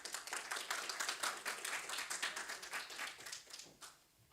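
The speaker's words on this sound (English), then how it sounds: "With a big round of applause, everyone, please welcome on stage Ms. Smita Hari." An audience at the Global Fintech Festival applauds to welcome a speaker on stage, a fairly soft, even patter of many hands that tapers off toward the end.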